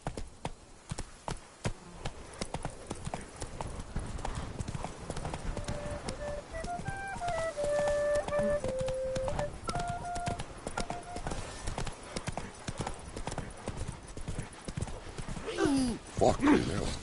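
Horse Roach's hooves clip-clop at a fast gallop in a video game, a rapid steady rhythm under occasional game sounds and a short whinny, with someone talking over it.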